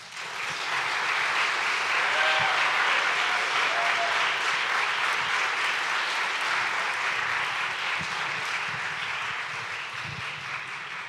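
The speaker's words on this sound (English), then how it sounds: "another round of applause for these seniors." Sustained audience applause from a school crowd at a senior thesis day, dense steady clapping filling the room at full volume for the whole stretch and fading slightly near the end.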